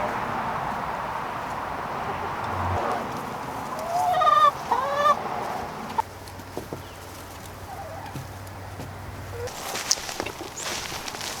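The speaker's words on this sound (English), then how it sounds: "we're gonna feed some chickens some sunflower snacks" Backyard chickens clucking while being fed sunflower snacks, a few close, bright clucks and squawks in the middle, then quieter scattered calls over outdoor ambience and shuffling.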